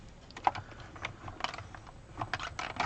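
A craft die-cutting machine clicks and ratchets steadily as paper passes through its rollers, a close, quiet mechanical run with no talking.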